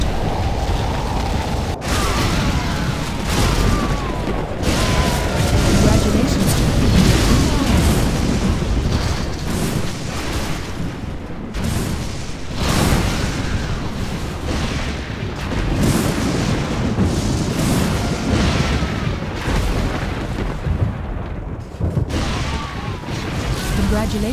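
Nuclear missile detonation in the strategy game Command & Conquer Generals Zero Hour, a sustained heavy rumbling roar with repeated booming bursts filling the whole stretch, loud and dense throughout.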